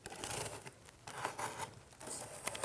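A sharp knife blade slices through cardboard shipping boxes packing a Studio Reformer with Tower, giving close scraping, tearing bursts in a few uneven strokes with short pauses between them.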